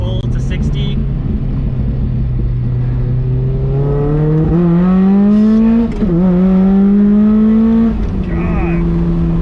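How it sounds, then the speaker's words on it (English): Mazda Miata with nitrous pulling hard to 60, the engine note climbing steadily in pitch through the gears with a brief dip at a shift, loud and close from inside the car, with some voice over it. "Alright, nitrous armed, same pull to 60."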